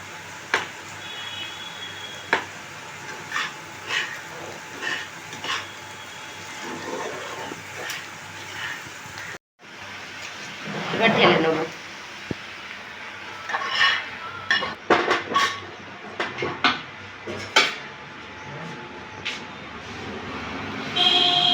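A spoon or spatula scrapes and clinks against a pan as ingredients are stirred into fried rice. The taps come at intervals, and there is a louder burst of mixing partway through.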